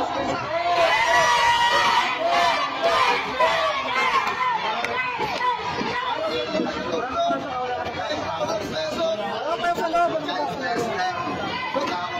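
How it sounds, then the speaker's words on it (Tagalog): A crowd in Tondo cheers, whoops and shouts loudly for a few seconds at a lively outdoor event, with a dense wash of overlapping voices throughout. "I-cheer natin ang ating Giant Chester, mga taga-Tondo. Sigaw!"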